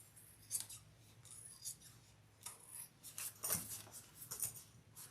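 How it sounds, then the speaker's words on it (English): Sharp scissors cutting leather for a sewing project, quiet close snips and rasping cuts in irregular bursts. "let's cut this. I'm going to get my sharp scissors."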